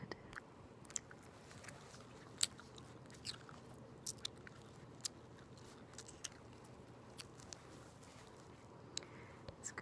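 Loud, close chewing during an ASMR dental cleaning session: soft wet mouth sounds under a low hush, broken by sporadic crisp bites and crunchy clicks spaced irregularly.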